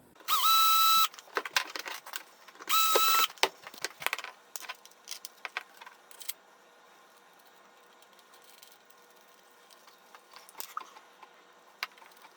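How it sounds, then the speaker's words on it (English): A small power drill whines loudly in two short bursts, drilling a little hole in a metal side table, followed by scattered clicks and light tool handling noises. "Slide it onto this side, drill a little hole."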